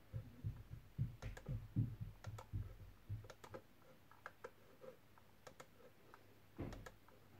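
A Xiaomi wireless mouse, 2.4 GHz and Bluetooth, gives a run of small, quiet clicks, close by and uneven in rhythm, with fainter ticks trailing off after a short pause.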